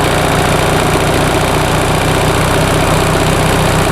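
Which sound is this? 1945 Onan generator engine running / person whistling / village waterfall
1945 Onan generator engine running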